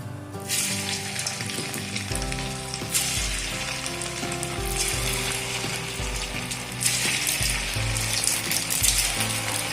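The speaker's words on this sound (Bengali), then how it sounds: "কড়াইতে তেল দিয়ে দিয়েছি, তেল গরম হয়ে গেছে, এবারে পাকোড়াগুলোকে ভেজে নেব।" Flattened rice pakoras frying in hot oil in a wok over a medium flame, a steady bubbling sizzle at moderate loudness with a faint mechanical hum underneath.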